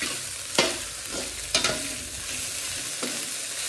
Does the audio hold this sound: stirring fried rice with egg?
yes